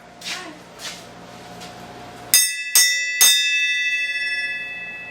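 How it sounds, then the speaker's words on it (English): A bell is rung during a Ford turbo install, three bright metallic strikes in quick succession that ring on with a long shimmering sustain, following a few faint knocks. "Alright, I'm going to ring the bell this time."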